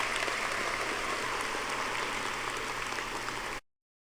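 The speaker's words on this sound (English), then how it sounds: "Give them a round of applause" Steady applause from a crowd at a commencement ceremony in an arena, a dense patter of clapping that carries on for a few seconds and then cuts off abruptly.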